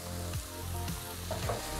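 Chicken wings with salt, black pepper and chopped parsley sizzle in a frying pan while a utensil stirs them, with a few scraping strokes over the steady frying.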